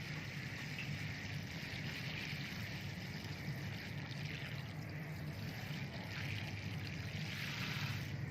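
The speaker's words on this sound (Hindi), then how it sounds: "तो अब टाइम है कि हम इनको पानी डाल दें।" Water is poured steadily into a pot of soil freshly planted with flower bulbs such as lilies and gladiolus, a soft, continuous trickling wash that runs throughout without pause.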